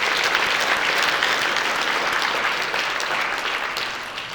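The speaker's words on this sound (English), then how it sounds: "let's give them a round of applause for our Legislators of the Year." Sustained applause from an audience at the Illinois Soybean Association 2022 awards event honoring Legislators of the Year, dense and steady before slowly tapering toward the end.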